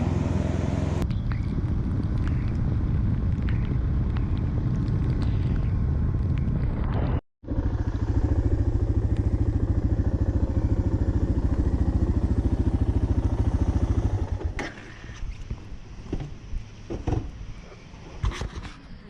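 Motorcycles riding on a long motocamping trip, with loud continuous engine and wind roar for most of the stretch and one brief dropout, then fading to quieter rumble and scattered clatter near the end.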